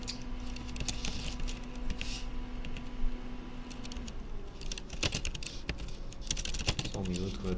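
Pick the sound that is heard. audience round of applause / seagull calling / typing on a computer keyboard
typing on a computer keyboard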